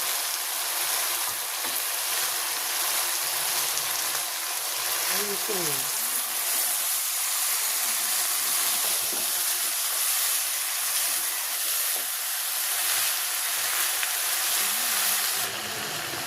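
Cauliflower and potato bhaji sizzles steadily in a pan in a village kitchen, a continuous bright hiss with occasional stirring scrapes, while a voice talks faintly underneath.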